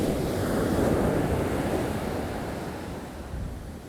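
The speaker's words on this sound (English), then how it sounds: "we're down by the water and we got a big wave coming in" A big ocean wave crashing on the shore, a loud, close roar of surf with wind buffeting the microphone, swelling early and then slowly easing off.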